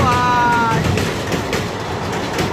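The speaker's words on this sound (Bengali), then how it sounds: "এই যে ট্রেন আসছে" A train rolls over a bridge close by, a loud rumbling clatter with rhythmic knocks and rising and falling noise, while a voice talks briefly over it at the start.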